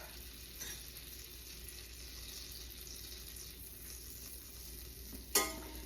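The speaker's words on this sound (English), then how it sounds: "once that skillet's hot, we're going to sear our scallops" Scallops sear in a hot skillet with a faint, steady sizzle hissing in the background, broken near the end by a short, sharp knock; no voices are heard.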